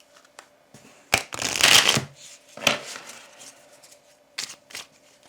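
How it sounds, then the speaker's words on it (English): Tarot oracle cards are shuffled in a few quick riffling bursts, crisp papery flurries separated by short pauses and light taps, close and clear with no voice. "let's pull your 3 oracle cards first"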